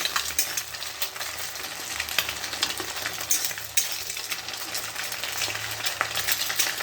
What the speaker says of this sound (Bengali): ডিমটাকে একটু ঝুরঝুরে করে নিই।